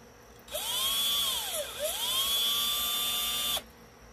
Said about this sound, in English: Well, I guess we'll have to drill through this too.